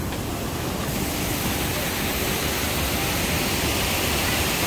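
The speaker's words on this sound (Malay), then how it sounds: "Air terjun lagi sini." A tiered waterfall pours in a secluded scenic spot, making a loud, unbroken broadband roar of rushing water that stays constant for the whole stretch.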